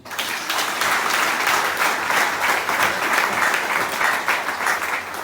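Church congregation at a Sunday service applauding, a dense, sustained wash of many hands clapping that holds steady and fairly loud for the whole stretch, with faint crowd voices mixed in.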